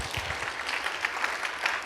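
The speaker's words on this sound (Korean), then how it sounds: "박수." A church congregation at a Friday worship service claps together, a steady broadband patter of many hands with a few faint voices mixed in, moderately loud and continuous for a couple of seconds.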